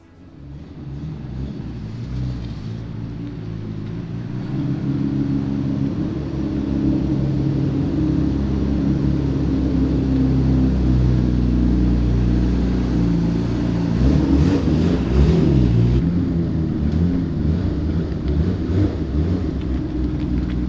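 A Nissan R34 Amuse Carbon GTR drives on a street at night, its engine a deep, steady, close rumble that swells as it accelerates and stays loud and continuous throughout, with no voices.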